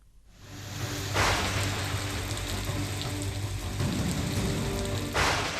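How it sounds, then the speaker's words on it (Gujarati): Steady, fairly loud rain falling during the monsoon in Gujarat, a dense continuous hiss of drops on surfaces with a low rumble underneath and no talking. "છેલ્લા અઠવાડિયાથી સારો વરસાદ થઈ રહ્યો છે"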